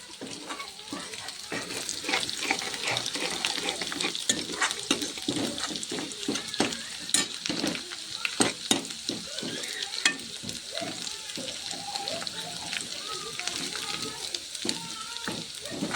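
Dill and fenugreek greens frying in a pan for a dry vegetable dish, steady sizzling broken by frequent scraping and clinking stirs against the pan.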